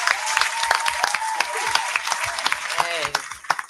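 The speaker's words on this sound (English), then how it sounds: "Let me clap for Reggie, man." Small audience at a Milwaukee comedy talk clapping in sparse, uneven bursts, with people talking over the claps.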